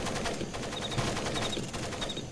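Rapid bursts of gunfire crackle continuously, like automatic weapons fire in Splinter Cell Pandora Tomorrow, with a dense, steady clatter and no voices.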